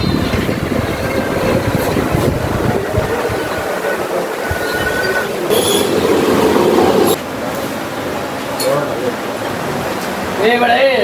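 A passenger train rolling along its rails, a continuous close rumble with rattling and occasional metallic squeaks, with voices speaking now and then over the noise.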